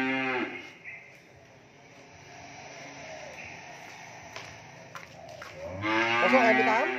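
Cattle at a cattle farm in Mỏ Cày Bắc, Vietnam, including French and heavily muscled beef breeds, give a short low moo at the start and a longer, louder moo near the end over a steady background hum.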